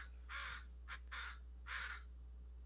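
A crow caws three times in quick succession, with a short fainter call between, loud and fairly close against a steady low hum.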